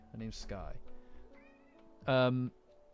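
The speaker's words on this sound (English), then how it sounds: "sorry if you can hear her meowing" A pet cat meows a few short times up close indoors, the calls breaking through a person talking quietly nearby.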